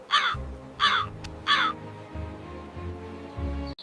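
A crow gives three loud, harsh caws in quick succession, clear and close over soft, low background music.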